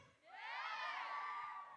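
A crowd at a dance event erupts in a sustained collective scream and cheer during a crowd check, a shrill rising roar that holds for over a second, heard from some distance.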